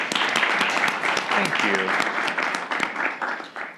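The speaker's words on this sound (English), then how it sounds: "I'd just like to give them a round of applause for their record-breaking numbers." Members of a student government senate applaud during a meeting, a dense, steady round of clapping filling the room while a voice speaks briefly over it.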